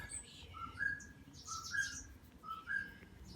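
A bird chirps outdoors in a repeated pattern of bright rising whistled notes, three short phrases spaced about a second apart, fairly faint over a low background rumble.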